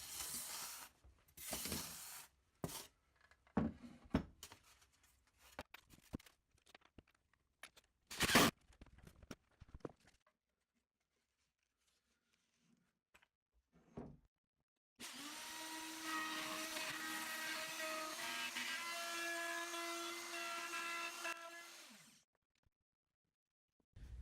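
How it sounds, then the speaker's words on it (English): A wood router cuts holes in a wooden cat dish stand: scattered clacks and knocks as the piece is handled, then a steady loud whining motor hum for several seconds before it winds down, no talk. "that's as far as my router bit will go into this wood, so I'll need to flip it over and start cutting from the other side"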